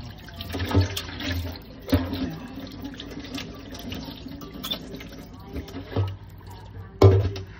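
Running water from a tap splashes continuously while a freshly caught octopus is washed beneath it, with occasional thumps and clatters in a sink.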